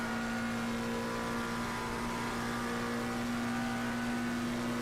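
A GT2 race car engine in a racing game, flat out along the Döttinger straight on the Nordschleife: a steady, sustained drone at constant pitch with no speech.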